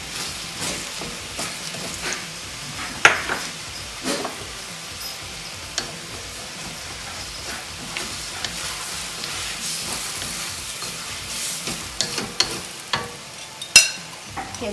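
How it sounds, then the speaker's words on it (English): Pad thai with crushed peanuts being stirred in a frying pan, steady soft sizzle under repeated scraping and clinking of a utensil against the pan, close and fairly quiet. "Give that a good mix."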